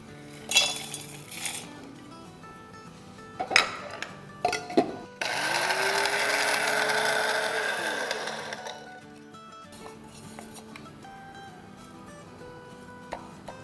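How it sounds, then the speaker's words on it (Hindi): An electric grinder pulverizes whole spices, including black cumin, black pepper, cloves and green cardamom, into a coarse biryani masala in one steady whirring run of about four seconds, framed by clinks of jars and utensils. "तो इसको अब हम पीस लेंगे।"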